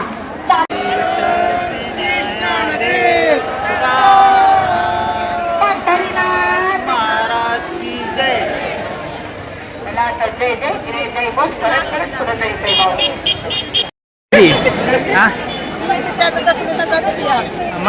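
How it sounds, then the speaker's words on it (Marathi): Dense crowd of pilgrims at Pandharpur on Ekadashi, a continuous murmur of many voices with clearer nearby chatter rising above it, staying loud and close until a brief dropout near the end. "गर्दी झालेली आहे"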